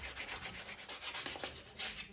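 Sandpaper of 120 grit rubbed over a carved wooden eating spoon, fast rhythmic close-up scratchy strokes repeating evenly without any talk.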